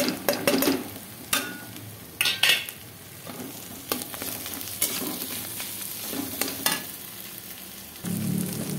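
Potatoes with onion and chilli powder stir-frying in a wok, with a steady sizzle broken by repeated scraping stirs of a utensil against the pan at close range, no voices.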